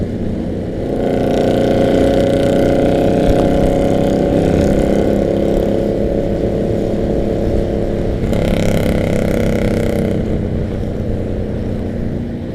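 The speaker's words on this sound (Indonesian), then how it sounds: "suara motor-motor yang sangat-sangat indah ini." Harley motorcycle engines idle and rumble outdoors in a steady, loud, continuous drone that holds from start to finish, with no talking over it.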